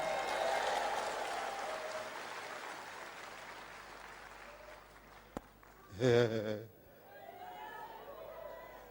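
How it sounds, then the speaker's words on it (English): A church congregation claps together at moderate volume, fading over several seconds; a brief voice and a single sharp knock cut through before the clapping resumes faintly. "Clap your hands anyhow."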